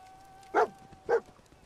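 Two short, mid-pitched barks from Dogmeat, the canine companion in the video game Fallout 4, spaced about half a second apart over a faint steady game hum.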